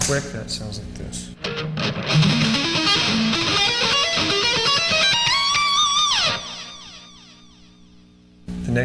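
Electric guitar lick built from major triads a tritone apart, shifting up in groups of three and down one string, played as a fast run of distorted notes. It climbs and ends on a sustained bending note, then fades.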